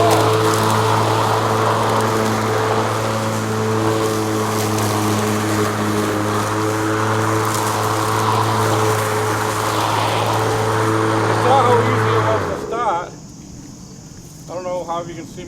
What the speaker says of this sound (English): I'm able to mow around these rhododendrons without any difficulty at all.